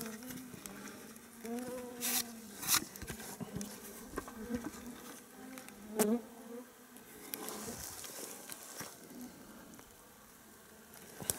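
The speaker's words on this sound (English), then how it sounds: "There is a fair amount of bugs around here now that the rain stopped." Insects buzz steadily nearby at Marigold Lake, Alberta, just after rain, with a few louder drones swelling past as individual bugs fly close to the microphone; no one speaks.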